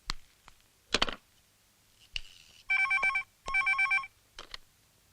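A telephone rings in two long bursts of bright electronic trilling, preceded by a few faint knocks and clicks in an otherwise quiet indoor scene.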